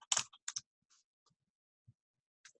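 Typing on a computer keyboard while entering data into a table: a quick burst of close, crisp key clicks followed by a few sparse, quieter taps, with no talking.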